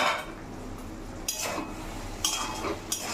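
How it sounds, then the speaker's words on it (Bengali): Metal lid lifted off a pot of simmering taro leaves cooking with chickpeas and coconut, a few sharp clinks and scrapes over a quiet kitchen background, no talk. "ঢাকনাটা খুলে দেব।"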